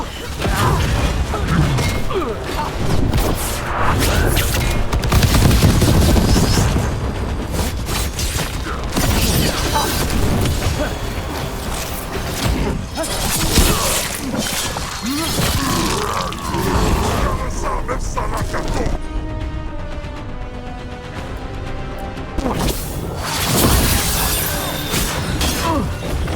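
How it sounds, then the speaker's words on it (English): Cannon fire in Dragon Age: The Veilguard, heavy booms and crashing impacts mixed with mechanical clanks, creaks and thuds amid game music, loud and repeated over nearly half a minute, with character voices shouting over the battle. "Cannon fire! Get clear!"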